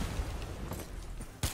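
Background explosions in the Call of Duty Black Ops 4 video game, a muffled ongoing rumble with faint scattered booms and one sharper, louder blast near the end.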